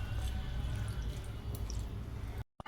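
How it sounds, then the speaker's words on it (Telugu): Water poured into jaggery in a pan, heard as a continuous close, fairly loud rushing wash that runs without a break before cutting off abruptly near the end, with no voices. "ఇప్పుడు కొంచెం వాటర్ వేసుకుందాం"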